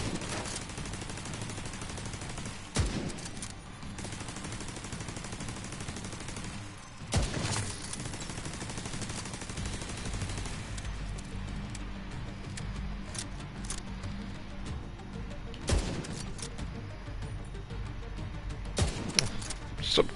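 Automated turret in The Division 2 firing on enemies, sustained gunfire crackling throughout with sharp louder bursts every few seconds, dense and close amid a busy combat soundscape.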